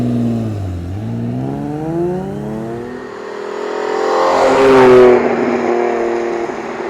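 An Alfa Romeo engine revs hard, its pitch sweeping up and down through several throttle blips before building to a loud, rising high-rev surge that then settles into a steady drone, with no voices present.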